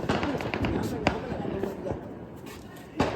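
Diwali firework rockets go off from a rooftop terrace, with sharp pops and cracks at irregular intervals, a couple of louder bangs standing out amid people chatting nearby.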